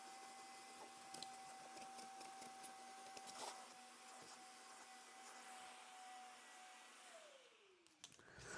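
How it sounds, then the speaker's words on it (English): A vacuum cleaner runs steadily over C5 Corvette floor mats with a constant whine and airy hiss, occasional bumps and scrapes, and the motor winding down near the end. "We're going to vacuum, we're going to clean them"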